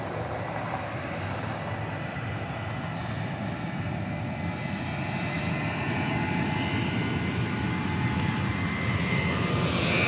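An airliner at Dallas Love Field departing after dark for New Orleans, a loud, broad jet engine roar that builds slightly toward the end, steady and alone without voices.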